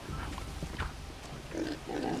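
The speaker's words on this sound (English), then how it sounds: "Pigs!" Pigs grunt in the video game Risen, several short rough snorts and grunts repeating over a busy game background, fairly close and moderately loud.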